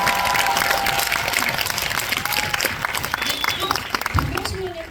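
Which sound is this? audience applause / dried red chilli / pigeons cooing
audience applause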